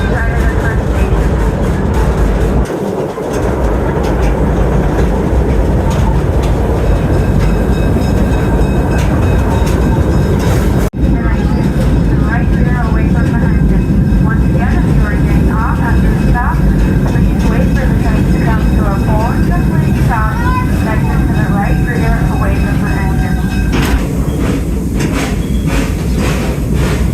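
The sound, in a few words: zoo train going around a bend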